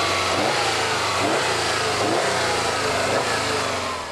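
A 2009 Subaru WRX STI's 2.5-litre turbocharged boxer engine revs hard and steadily under acceleration, a loud continuous roar with a deep rumble and a broad, noisy whoosh.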